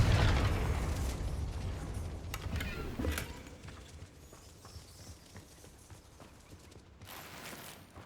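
A Confringo fire spell blasts in the Hogwarts Legacy video game, with a loud burst at the start that decays into rumbling game effects, followed by a couple of sharper impacts around the middle and near the end.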